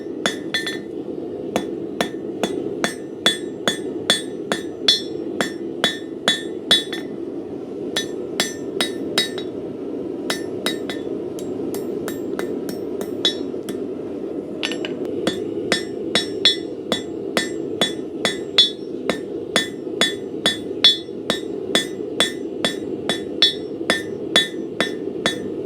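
A hammer rings on hot steel at the anvil, drawing out a long taper for kitchen skewers: a long run of sharp metallic strikes in a steady rhythm, close and loud, with a brief pause partway through.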